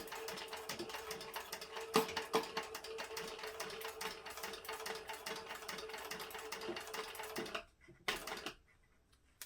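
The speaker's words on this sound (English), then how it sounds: "now we're going to go ahead and top stitch at 1/8 of an inch around the exterior" A sewing machine top-stitches around a fabric book sleeve in a fast, steady run of rapid needle clatter. It stops briefly near the end, then makes one short burst before falling quiet.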